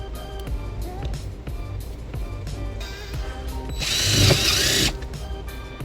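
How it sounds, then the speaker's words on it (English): A power drill drives a self-tapping screw during trailer wiring installation on a 2010 Toyota Sienna, with a close, loud whirring burst and ratcheting near the end over a steady mechanical background. "Now I got my drill and my self-tapping screw."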